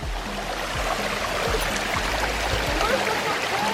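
Stream water flows steadily in Millard Canyon as a broadband wash of rushing and trickling, close and continuous, with low thumps of wind or handling underneath.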